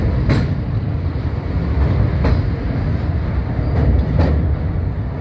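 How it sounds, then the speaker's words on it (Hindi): Chinese-built train coaches rolling across the Mehran (Kotri) bridge, a loud continuous rumble with periodic metallic clacks from the wheels, close by and without talk. "मेहरान ब्रिज से गुजरती ये ट्रेन चाइनीज कोचेस।"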